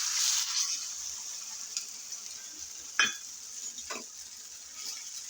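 Egg and vegetable mixture frying in oil on a tava, a steady soft sizzle with high hiss, broken by a couple of brief scraping or tapping sounds near the end.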